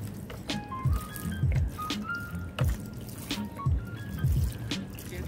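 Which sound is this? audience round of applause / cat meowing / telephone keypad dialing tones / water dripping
water dripping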